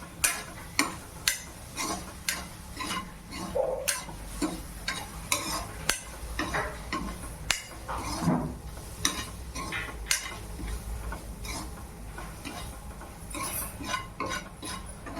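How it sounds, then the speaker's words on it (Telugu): Paneer bhurji stirred slowly in a pan over a soft background sizzle, with a regular series of spoon scrapes and taps against the metal, fairly quiet and close, no voices. "మీరు ఏ విధంగా కలుపుతో అదే విధంగా స్లోగా కలపండి."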